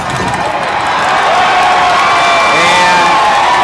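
A high school football crowd at an East Kentwood game roars and cheers loudly, a dense sustained wall of shouting and whooping with some clapping that swells and holds.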